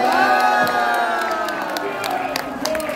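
A crowd at a Korean political gathering shouts a manse cheer together, with loud cheering voices, whoops and scattered clapping filling the space briefly.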